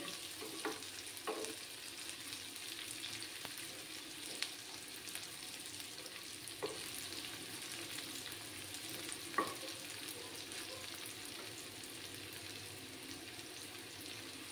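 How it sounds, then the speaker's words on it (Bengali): Onions fry in a pan with a quiet, steady sizzle, broken now and then by soft clicks and scrapes of stirring. "একটু লাল করে পেঁয়াজগুলোকে ভেজে নিতে হবে।"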